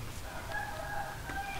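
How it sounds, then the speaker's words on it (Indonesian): A rooster crows once somewhere in the background during a daytime recording indoors, a faint, drawn-out call heard over low steady room noise. "berpaduan dengan suara ayam"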